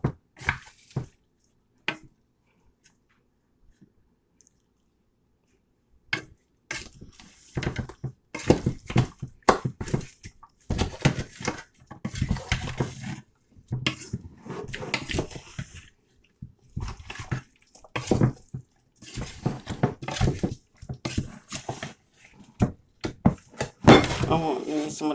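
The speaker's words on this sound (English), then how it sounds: "Okay, I'm gonna stir this up." Seasoned ox tails stirred in a pot, irregular scraping and clattering bursts with pauses, after a near-silent opening; a person talks in between.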